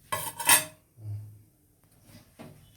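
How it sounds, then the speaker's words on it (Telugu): A metal lid is lifted off a pot of oil-free onion pulusu, giving two sharp clanks up front followed by a softer scrape and a few faint knocks. "ఇక మూత తీస్తున్నాను చూడండి."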